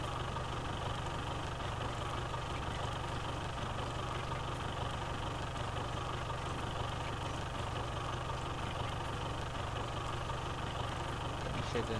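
A John Deere tractor engine in the farming game Landwirtschafts-Simulator 2011 on the Paraná map drones steadily, with a constant, unbroken mid-level running tone throughout and no pauses.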